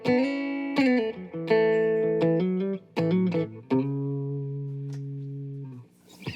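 A clean electric guitar plays several sustained chords and notes through a 1966 Fender Deluxe Reverb amplifier, each ringing out and decaying, with brief pauses between phrases.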